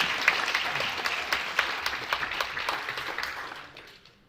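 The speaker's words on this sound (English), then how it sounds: "can we have a round of applause again for everybody who took part" Audience applause at a university Three Minute Thesis competition, a dense wash of many hands clapping close and steady, then thinning and fading out over the last second.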